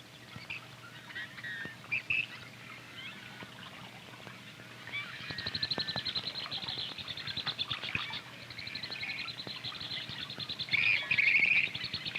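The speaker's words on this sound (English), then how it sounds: "the many activities of the grebes and other birds of the marsh" Grebes and other marsh birds call from a wetland bay, with chirps, trills and rapid repeated notes overlapping at moderate distance, some bursts louder and closer, no talking.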